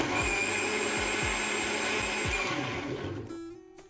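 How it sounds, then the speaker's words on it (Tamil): A mixer grinder jar whirs steadily while blending curd into a gravy paste, its motor whine holding for a few seconds and then winding down and stopping near the end. "தயிர் சேர்த்துட்டு மிக்சர் ஜாரில் ஒரு 2 ஓட்டு ஓட்டினீங்கன்னா இந்த மாதிரி நல்ல ஒரு கிரேவி கன்சிஸ்டன்சிக்கு வந்து ரெடி ஆயிரும்"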